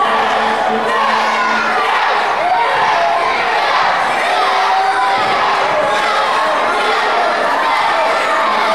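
A wrestling crowd at a heavyweight championship cage match chants for Matt Carlos, a dense, loud roar of many voices with rhythmic shouting that fills the arena throughout.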